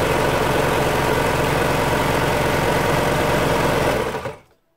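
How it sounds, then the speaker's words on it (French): A sewing machine stitches a sweatshirt dress, running as a steady, loud mechanical hum with fast needle rhythm for about four seconds before stopping abruptly. "Il va falloir quand même une machine à coudre à un moment"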